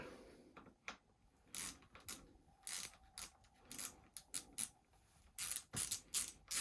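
Socket wrench ratcheting while bolts on a bike stem are snugged up, a quick irregular series of sharp clicking bursts close by, with pauses between strokes.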